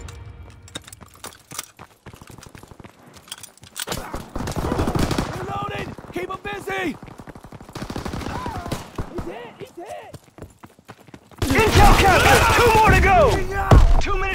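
Gunfire from the Call of Duty WW2 multiplayer video game: rapid machine-gun bursts and scattered gunshots crackle throughout, growing to a dense loud volley near the end, mixed with in-game shouted voices.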